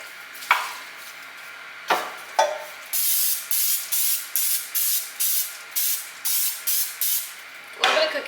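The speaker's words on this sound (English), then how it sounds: "A little bit of cooking spray." Cooking spray hisses into a pan in a rapid series of about ten short bursts, close and loud, with a few clicks and knocks before and after.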